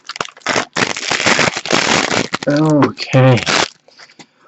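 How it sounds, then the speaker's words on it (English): A dog barks twice in quick succession in the background, close and fairly loud, amid crinkling plastic from a Moyu 7x7 puzzle cube being unwrapped and someone talking. "Sorry, that's my dog barking."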